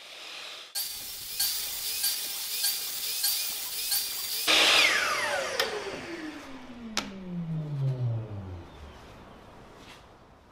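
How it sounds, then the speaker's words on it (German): A power saw cuts plywood to width: a loud, close, whining cut with rhythmic pulses, then the blade winds down with a falling tone and a few faint clicks. "Nun schneiden wir das Ganze auf Breite"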